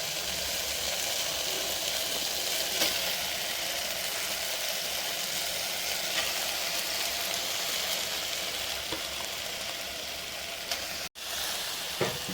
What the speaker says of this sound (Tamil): ஆயிலில் கொஞ்சம் நேரம் இதை நல்லா வதக்கிடலாம்.